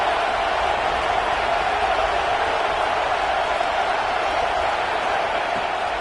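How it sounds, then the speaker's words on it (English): A football stadium crowd roars steadily and loudly for the defense during a red-zone stand, a dense sustained wash of cheering. "The crowd getting behind this defense as they try to get a stop in the red zone."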